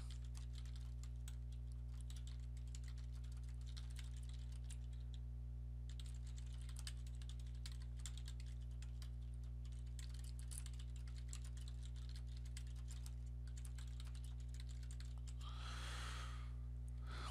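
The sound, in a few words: typing an email address on a computer keyboard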